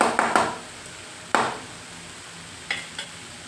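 Boiled sprouts are stirred and fried in a pan with grated coconut and browned onion, giving a few sharp spoon scrapes and clacks over a soft, steady sizzle, close and fairly loud.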